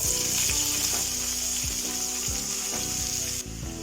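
Sliced onions fry in hot oil for chicken biryani, in a pan where cashews and raisins were just fried. A loud, steady sizzle runs throughout with faint stirring knocks, and no one speaks.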